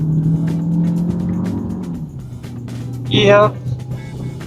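JETOUR Dashing SUV with pedal shifters accelerates from the throttle with some turbo lag, its engine droning steadily and then dropping in pitch, heard from inside the cabin under a voice.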